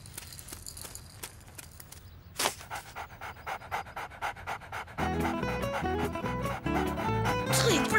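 A dog pants in quick, rhythmic, close breaths with a few scuffing sounds, and then music and busy cartoon sound effects swell up over it.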